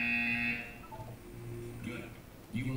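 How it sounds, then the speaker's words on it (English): A buzzer in the Portal 2 video game sounds one steady, bright electronic tone for about half a second, then a synthetic voice speaks over soft background hum. "You will hear a buzzer."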